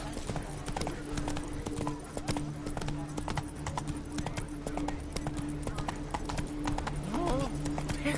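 Horse trotting in The Witcher 3, a steady quick run of hoof clip-clops throughout with a brief whinny-like vocal near the end, over a low ambient hum.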